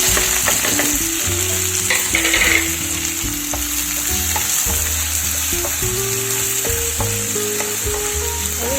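Chopped onions frying in hot mustard oil in a wok, a loud close sizzle with a brief burst of spattering early on, overlaid by a steady electronic tone and shifting background music notes.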